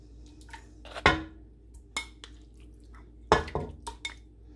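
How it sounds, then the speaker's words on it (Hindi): Pieces of lamb go into a pressure cooker holding water for yakhni pulao, giving two sharp wet thuds and clatters, the second followed by a few smaller splashy knocks, close and fairly loud with no talk. "तो चलिए इसमें लैम्ब डाल देते हैं।"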